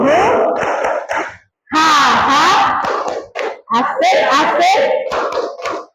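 Classroom of students in an Indonesian school claps and shouts through a rhythmic clap chant, with loud group calls and hand claps in bursts separated by brief pauses, voices dominating throughout.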